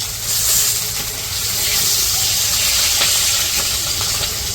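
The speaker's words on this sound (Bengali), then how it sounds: "তো যাই হোক অল্প অল্প করে ভাজবো, আর বেশি কড়া করে ভাজবো না" Large egg-bearing hilsa fish from Barisal fry in hot oil, giving a steady, loud, close sizzling hiss that continues without a break.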